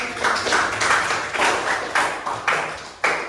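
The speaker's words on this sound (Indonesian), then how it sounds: "berikan dulu aplaus untuk" Classroom applause from a group of students, a steady burst of clapping that continues for several seconds, with rhythmic pulses of claps and swells in volume, fairly close and lively.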